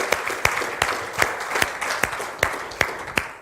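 A church congregation at a Spanish-language Sunday service applauds, steady close clapping with a rhythmic beat of sharper accented claps throughout, filling the room without voices on top.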